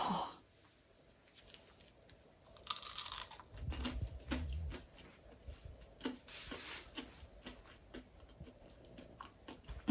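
Crunchy vegan southern fried stars with breadcrumb coating are bitten and chewed up close, giving irregular dry crunches and soft mouth sounds at low volume, with a louder crunching burst near the middle.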